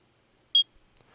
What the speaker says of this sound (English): This is one very short beep.